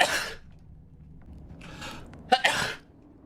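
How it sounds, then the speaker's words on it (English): Sneezes from a VTuber during a livestream: a sharp burst at the start, then a pair of quick sneezes near the end, with a quiet, noisy background between them. "I keep sneezing."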